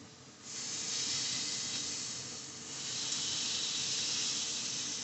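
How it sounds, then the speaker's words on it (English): Burgers sizzling in a pan just after being flipped at home, a steady broad hiss that swells up and stays loud for several seconds with no talking. "let's go ahead and flip those burgers"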